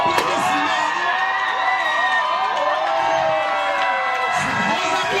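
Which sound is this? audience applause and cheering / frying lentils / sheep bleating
audience applause and cheering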